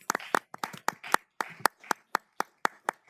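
A small audience at a county commission meeting claps for a newly introduced county veterinarian, a sparse, uneven run of close, sharp hand claps with a few voices murmuring underneath.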